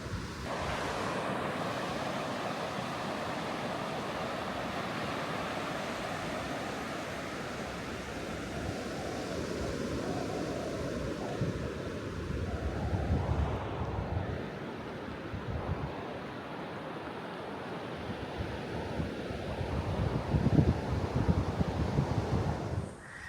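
Ocean waves wash steadily onto a deserted beach in Ireland, a broad continuous roar of surf with wind rumbling against the microphone and a few swells of louder breaking water.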